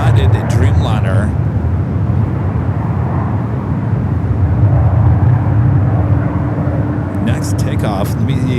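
United Boeing 787-9 Dreamliner, flight 58 to Frankfurt, taking off from runway 28 left at San Francisco airport: a sustained loud engine roar and rumble filling the clip, with someone talking at the start and end.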